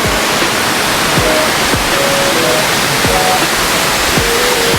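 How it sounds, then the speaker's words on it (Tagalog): Margaret Falls in British Columbia pours in a loud, constant rushing roar, heard close up and uninterrupted, with faint low thumps beneath the steady spray. "Ito na ba yung Margaret Falls?"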